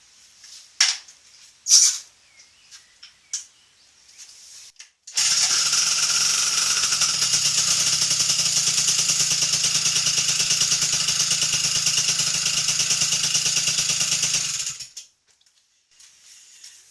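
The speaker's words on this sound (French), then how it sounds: "Du coup, elle démarre du premier coup à froid" An MBK 51 Doppler moped starting cold: a few clanks and kick-start pedal strokes, then the small two-stroke engine catches and idles steadily for about ten seconds before cutting off, close and loud.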